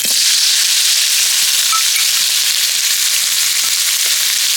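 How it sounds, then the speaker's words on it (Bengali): Chopped onions frying in oil in a wok give a loud, steady sizzle that holds without a break, close by and with no voices. "পেঁয়াজটাকে হালকা করে ভেজে নেব"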